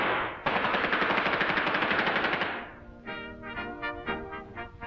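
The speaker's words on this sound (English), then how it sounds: "And with your automatic weapons, you have greater firepower than a whole platoon of Napoleon's finest." Rapid automatic weapon fire in a World War II era cartoon, a loud sustained burst of machine gun rattle followed by a few shorter, sharper gunshot bursts.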